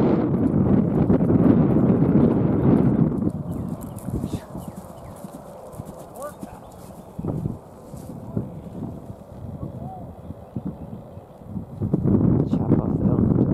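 A 2016 colt trots outdoors with rhythmic hooves clip-clopping on the ground, moderately near under wind buffeting and a person talking.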